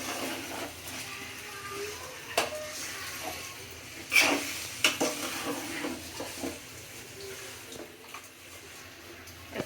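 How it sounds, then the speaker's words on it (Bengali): Chicken curry being stirred and browned in a pot, intermittent scraping and clanking of a spoon against metal over a low sizzle, with a few louder knocks midway and quiet between strokes. "চিকেনটা এখন নেড়ে চেড়ে দিচ্ছি। চিকেনটা ভালোভাবে কষিয়ে নিব।"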